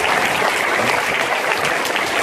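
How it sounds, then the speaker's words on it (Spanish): A school audience claps together in a dense, sustained round of applause that fills the whole stretch at an even, loud level, with no voices standing out. "quiero pedir un aplauso de nuevo por tanto también."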